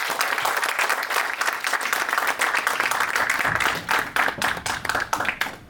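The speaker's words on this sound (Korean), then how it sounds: "박수로 맞이해 주시기 바랍니다." Dense, sustained audience applause welcomes forum panelists to the dais at a conference on Korean Peninsula peace policy. It is loud and continuous for about six seconds, with no speech over it.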